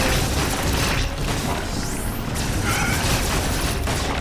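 A power bomb detonates in Metroid Dread, a loud, sustained booming rumble with mechanical textures and a sweeping tonal effect, filling the whole few seconds.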